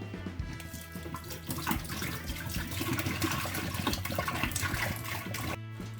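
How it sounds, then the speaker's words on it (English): Beer wort for a one-gallon brown ale is poured through a funnel into a carboy, a steady close gurgling rush of liquid that runs continuously and stops abruptly near the end. "Then we're going to take the wort and simply pour it down into the carboy."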